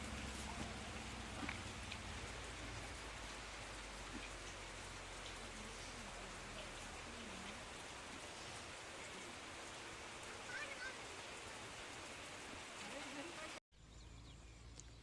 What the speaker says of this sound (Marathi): पाऊस आला होता.